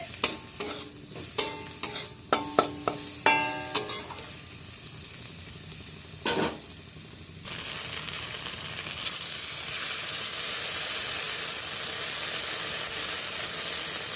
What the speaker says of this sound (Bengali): আবারও একটু নেড়ে ছেড়ে নেব মশলাটাকে দিয়ে